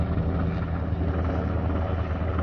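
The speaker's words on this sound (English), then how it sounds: "I'm right on a military flight path, so we get a lot of helicopters flying pretty low." A low-flying military helicopter passes over a garden on a military flight path, its steady rotor thump and engine roar loud and continuous with no talk.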